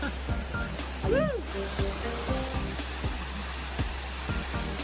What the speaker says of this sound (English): this is definitely a quality waterfall here